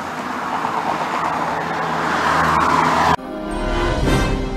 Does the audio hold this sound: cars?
yes